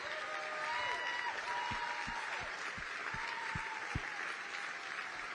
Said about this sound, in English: How about a round of applause for our veterans?